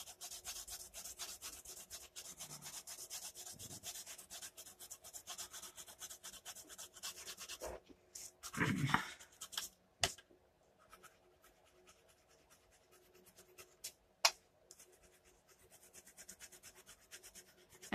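An Arteza watercolor pencil scratches and rubs across Canson paper in quick, steady strokes, then pauses for a few soft knocks and scrapes before the coloring sound fades.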